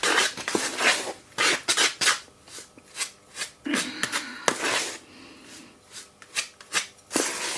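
A spoon scrapes and clinks while stirring ingredients in a container for a homemade Lush-style cosmetic, in short, uneven bursts with quiet gaps between strokes.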